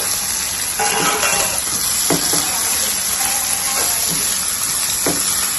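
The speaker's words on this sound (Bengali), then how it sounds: "আমার পাশে রান্না করা চিকেন ছিল সেগুলোও দিয়ে দিতেছি" Cooked chicken goes into sizzling chicken chow mein with green capsicum in a pan, giving a loud continuous frying hiss with scattered clinks and stirring scrapes close by.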